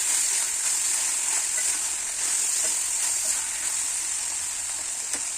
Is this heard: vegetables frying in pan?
yes